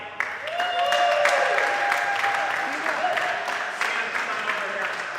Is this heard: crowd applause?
yes